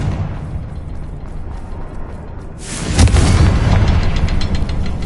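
A Confringo fire spell blasts in Hogwarts Legacy, a loud booming burst that kicks in midway and rumbles on after a steady low background.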